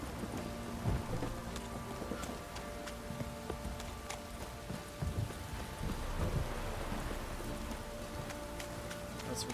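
Rain and thunder in The Witcher 3 video game, a steady hiss of falling rain with scattered drops and low thunder rumbles, fairly quiet throughout.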